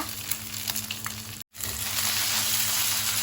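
Garlic and beaten egg fry in a hot pan with a steady, close sizzle. The sound cuts out for an instant, then comes back fuller and louder.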